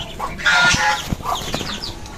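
White Chinese ducklings feed inside a cage, giving short, close clucking and peeping calls with soft rustling and a few pecking taps against a quiet background.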